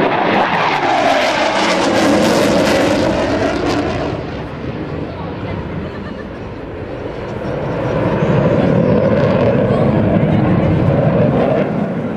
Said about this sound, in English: Here's the carrier break by Brent Jaquith.